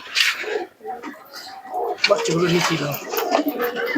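Pigeons of the Giribaz and Matraj breeds coo in soft, repeated low calls close by, mixed with other bird sounds, while a person talks over them through most of the stretch.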